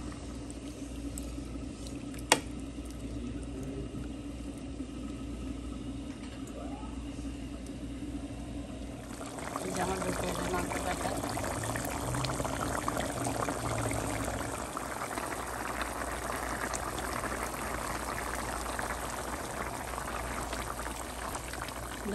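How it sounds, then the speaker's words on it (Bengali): Water poured into a cooking pot during Bengali home cooking, a steady hissing, bubbling wash that grows louder partway through, set against a constant low background hum. "নিয়ম অনুযায়ী জল দিব"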